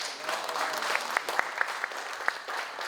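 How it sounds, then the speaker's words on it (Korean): Audience applause at a National Assembly regional balanced-development forum meeting in Andong and Yecheon, Gyeongbuk: a steady, fairly thin wash of clapping from a seated crowd, with a few sharper individual claps standing out, heard without speech. "저는 이렇게 박수소리가 적게 나올 줄 몰랐는데요."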